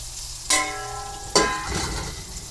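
Garlic and onion sautéing in oil in a pan, with two sharp bursts of sizzling as ingredients drop in or are stirred, followed by a steady, moderately close frying hiss.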